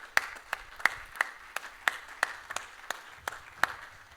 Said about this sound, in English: please give them big applause on this beautiful occasion